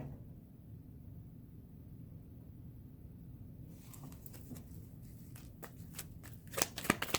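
Tarot cards are shuffled by hand, starting as faint low rustling and breaking into crisp riffling flicks and snaps in the second half, close up and moderately quiet.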